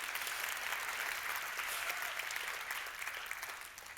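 Audience applause at a Cégep de Shawinigan student talent show final, steady and sustained for about four seconds from a full room, easing slightly at the end.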